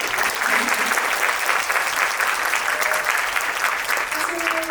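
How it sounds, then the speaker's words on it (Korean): An audience at a Korean film screening Q&A for the movie Hi-Five gives a warm, continuous round of applause, dense and close, with clapping holding steady throughout and a faint voice murmuring beneath it. "두 분이 부끄러우실 테니까 박수 한 번만 보내주세요"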